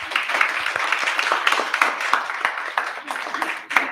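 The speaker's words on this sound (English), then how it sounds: "Please give them a big round of applause" Audience applause at a 30 Years of Democracy celebration event, a steady dense patter of many hands clapping at moderate loudness, with scattered sharper claps and faint background voices mixed in.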